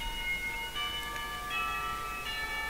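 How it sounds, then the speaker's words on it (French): A school chime rings in the visual novel Katawa Shoujo, sounding a steady sequence of bell tones that change about every three-quarters of a second over a soft background hum. "mais la cloche sonne et je dois aller en classe"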